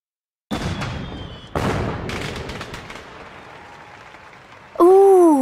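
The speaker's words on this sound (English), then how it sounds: "Orange and green fireworks." Fireworks explode at a nighttime display in two sharp booms, each trailing off into crackling, before a tonal sound takes over at the end.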